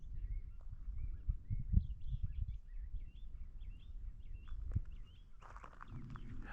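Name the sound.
birds singing in the Sonoran Desert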